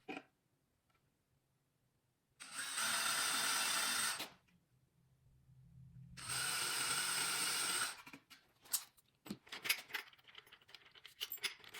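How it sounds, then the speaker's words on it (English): A power drill fitted with a small bit bores through two stacked pieces of wood in two sharp, loud bursts of about two seconds each, followed by scattered clicks and clatter. "Starting with a small drill bit first, we will drill through both pieces of wood."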